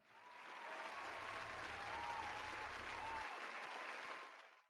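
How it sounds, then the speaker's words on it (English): A crowd bursts into applause in an arena, a dense, steady wash of many hands clapping that swells, holds for several seconds and fades out, heard fairly faint and distant. "Keeper claps."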